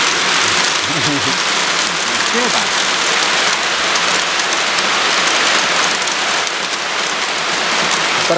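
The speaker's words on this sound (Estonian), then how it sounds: "Ja hakkabki vihm pihta." Heavy rain pours down in a Costa Rican rainforest, a loud, steady, dense hiss of drops hitting leaves and surfaces that continues without a break.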